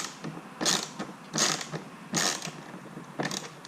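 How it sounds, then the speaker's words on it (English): Ratchet wrench loosening a 10mm bolt inside a 2015 Mustang door after the panel is removed: four loud, close bursts of rapid clicking, each about a third of a second long, spaced roughly evenly with quieter ticking between them. "remove this 10mm bolt"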